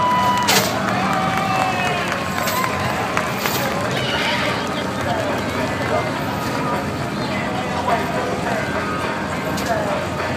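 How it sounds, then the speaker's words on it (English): Outdoor crowd at a 2WD Tuff Truck event cheering and applauding a first-place trophy winner, a steady dense wash of claps and voices lasting throughout with babble mixed in. "Let's give him a round of applause."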